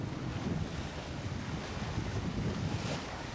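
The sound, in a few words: boat plowing through ocean swells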